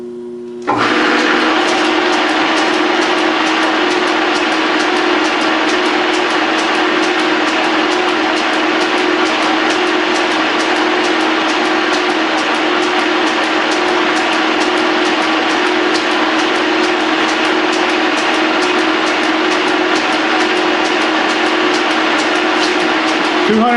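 A Pratt and Whitney lathe spindle running in during a restoration gives a loud, steady mechanical whir with a constant low tonal hum. It starts up after a brief moment and continues unbroken for over twenty seconds.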